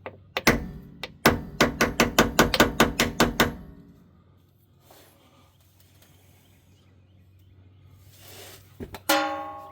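A rapid run of about a dozen sharp metallic hammer strikes on a Toyota FJ Cruiser's rear pinion, close and loud, followed by quiet and a final clatter.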